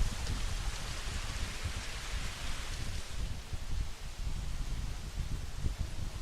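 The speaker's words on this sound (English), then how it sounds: "Oh, it's raining." Steady rain hisses evenly in the video game Jurassic World Evolution, a dense continuous wash of falling water with a low rumble beneath, no voices present.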